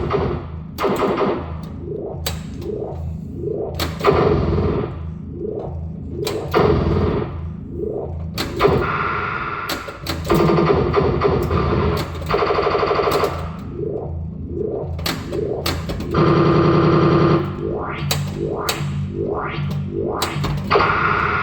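A 1985 Bally Cybernaut pinball machine during play, with repeated descending electronic zaps, swooping synth effects, thuds and clacks in rhythmic bursts, loud and close with no talk.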